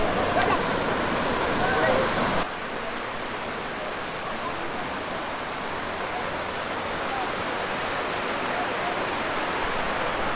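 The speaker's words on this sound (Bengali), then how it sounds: "এটা হচ্ছে কমলদহ ঝর্ণা আর এখানে পানি যথেষ্ট স্বচ্ছ আর পানির পরিমাণ অনেক বেশি আছে" The Komoldoho waterfall, running full after two days of rain, gives a continuous loud roar of rushing water; the level drops slightly after the first couple of seconds, then holds steady with no talk.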